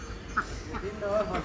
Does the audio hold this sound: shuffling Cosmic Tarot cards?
no